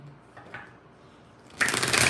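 Tarot cards being shuffled by hand, a short, close, crisp riffling burst that comes in near the end after a quiet stretch, with no talking.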